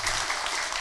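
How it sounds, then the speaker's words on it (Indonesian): Audience clapping at an Islamic talk-show gathering, a dense steady wash of many hands that fills the whole short moment with no voices above it. "Tepuk tangan buat Ibu Nisa."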